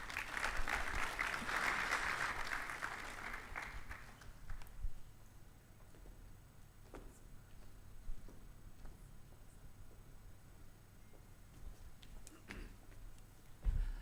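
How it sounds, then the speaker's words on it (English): An audience at a conference event in Tanzania claps warmly for a speaker, a burst of dense applause that fades out within a few seconds, leaving a quiet room with scattered faint knocks. "Ladies and gentlemen, a bigger round of applause to Jane Miller"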